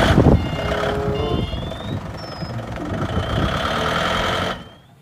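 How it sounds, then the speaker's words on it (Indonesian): Reversing beeps from a red toy forklift, a steady electronic tone with a mechanical whirr and rattle running underneath, fairly close and continuous before cutting off near the end. "Wow, ada mobil forklift."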